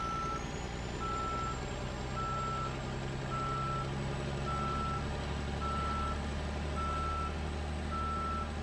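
A heavy truck reversing through deep snow in an off-road hauling game, its backup alarm beeping steadily at an even pace over a constant low engine drone, with a faint high whine above.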